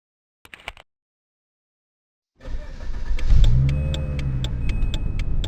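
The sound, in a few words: car starting and driving out of a parking lot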